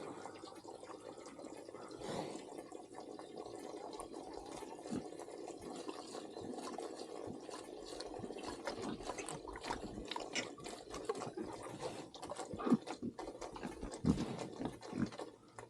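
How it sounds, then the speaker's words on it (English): A pig drinks water on a frosty morning feeding, giving steady wet lapping and slurping sounds, low and continuous at close range, with a few sharper splashes toward the end. "You're drinking water. I want to drink water."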